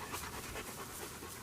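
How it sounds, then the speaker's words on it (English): A dog panting in a backyard garden, fast steady breaths repeating throughout, close up and fairly quiet with no talk. "I don't know if you can hear the damn dogs"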